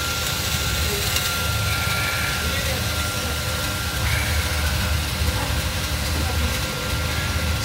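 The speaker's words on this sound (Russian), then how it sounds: "Генератор на пиролизном газе." A 12-kilowatt electric generator runs on pyrolysis gas, a steady, loud engine drone with a slight rise in intensity midway, while someone talks over it.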